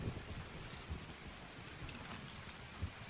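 Steady rain pattering in the video game Escape from Tarkov, a faint continuous hiss with soft low thumps of distant rumble.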